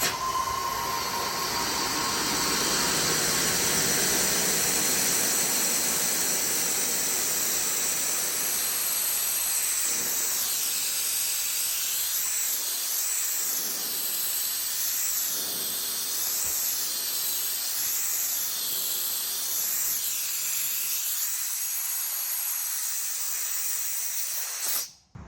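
Compressed air rushes out of an air compressor tank through a ball valve as a loud, continuous hiss that holds strong for the whole stretch before cutting off abruptly at the end.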